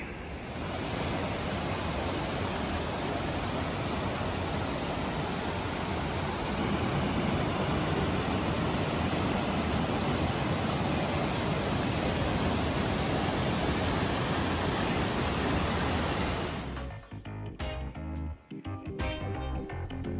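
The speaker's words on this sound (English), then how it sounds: "I'm not gonna say no to a swim in a fresh waterfall" A freshwater waterfall in Fiji roars as a loud, steady wash of falling water, constant and close for most of the stretch before cutting abruptly into quieter scattered sounds near the end.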